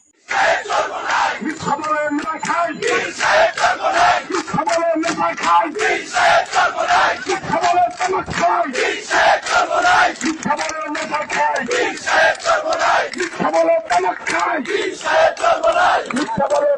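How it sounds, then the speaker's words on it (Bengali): A large crowd of BNP activists chants political slogans at an outdoor rally, shouting in loud, rhythmic call-and-response bursts that run continuously and close. "কুরুচিপূর্ণ স্লোগান দিচ্ছে বিএনপির নেতাকর্মীরা"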